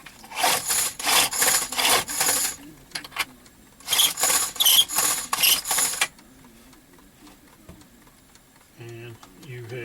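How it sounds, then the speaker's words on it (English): A dechamfering tool scrapes burrs from the mouth of a .303 British brass cartridge case in two bursts of rapid, rhythmic rasping strokes, close and fairly loud, followed by quieter handling sounds. "Take the dechamfering tool,"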